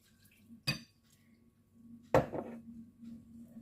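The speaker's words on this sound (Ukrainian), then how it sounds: "Гарно, гарно розмішуємо, щоб не було комочків" A utensil stirs pancake batter in a bowl with two sharp clinks against the dish and a soft scraping swirl between them, close and fairly quiet, no speech.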